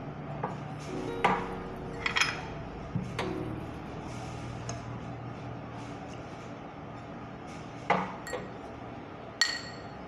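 Liquid being spooned out of minced pork in a pot: sparse, quiet metallic clinks and taps of a spoon against the cookware, spaced irregularly over a soft background.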